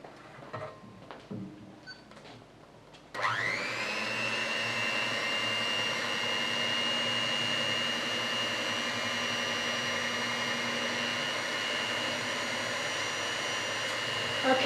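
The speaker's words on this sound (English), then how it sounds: "So we're going to move on now to use an electric mixer." An electric hand mixer with twin beaters whisks pancake batter in a bowl. It starts abruptly after a few seconds of quiet room noise and faint talk, then whines as a loud, steady motor drone to the end.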